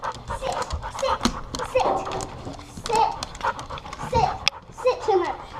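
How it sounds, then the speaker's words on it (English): A dog wearing a GoPro camera pants rapidly and close to the mic, steady breathy huffs throughout, with voices talking over it. "There you are, dog."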